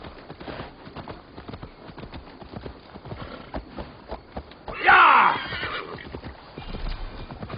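A horse gallops in Assassin's Creed Valhalla, its hooves drumming in a quick, continuous rhythm, with a loud, shrill neigh breaking out partway through before the hoofbeats carry on.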